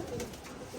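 Pigeons bred for flying, prepared for a tournament, coo softly in a short, low, continuous murmur with no voices present.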